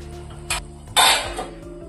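A lid goes onto a pan of fish masala with a light tap first, then a louder close metallic clank that rings briefly before fading.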